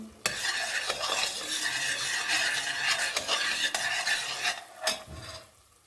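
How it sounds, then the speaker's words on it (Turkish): Tomato paste sizzles and fries in a pan as a utensil stirs it, steady crackle punctuated by repeated scraping and clinking against the pan, close and continuous. "şimdi salçamı kavurdum"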